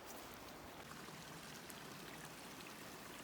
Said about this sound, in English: Love the gurgling of creeks.